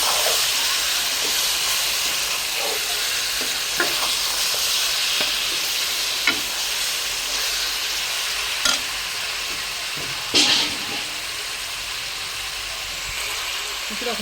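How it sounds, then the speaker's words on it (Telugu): Washed chicken pieces stirred in a frying pan, giving a continuous loud sizzling hiss with occasional scraping knocks of a utensil against the pan. "కడిగి పక్కన పెట్టుకున్న చికెన్ దీన్ని ఒకసారి ఇలాగా కలుపుదాం"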